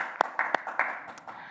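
A few scattered hand claps from a thin gathering at a Native American chamber fundraiser, applauding donors, uneven and fairly close over about a second and a half, then fading into quiet murmur.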